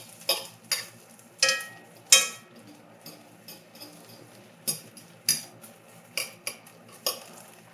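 A fork presses cabbage burgers down in a #8 Wagner cast iron skillet, giving about a dozen sharp metallic clinks and taps at an irregular pace over a low, quiet background, with no talking.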